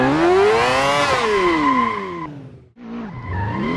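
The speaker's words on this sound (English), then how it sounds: "Porsche 718 Boxster. With 350 horsepower, it certainly can drift." A 350-horsepower Porsche 718 Boxster drifts in the Assetto Corsa racing game. Its engine revs rise and fall while the tires squeal in long, loud sweeping howls, cutting off briefly before the screech and engine pick up again.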